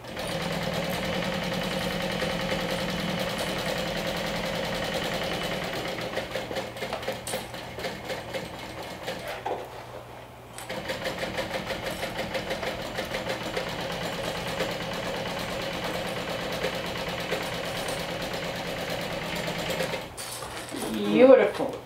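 A sewing machine runs in long, slow bursts as it stitches around a curved gusset seam, its steady mechanical whir pausing briefly midway before resuming, with a voice talking over it.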